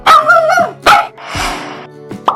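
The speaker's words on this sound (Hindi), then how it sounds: "Dog. This is dog." A dog barks loudly up close, several sharp yips and barks with a whimpering note between them.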